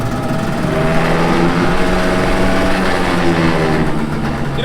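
A Mercury 4.9 hp two-stroke outboard motor runs at a steady, loud idle nearby, a continuous buzzing drone with no pauses and no talking.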